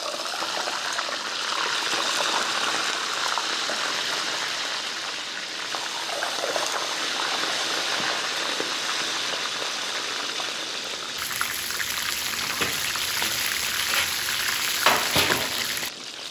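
Chicken pieces fry in hot oil, a steady dense crackle and sizzle that runs continuously, turning brighter and busier partway through with a few sharper pops near the end; no voices.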